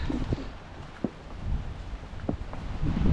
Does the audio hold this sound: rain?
yes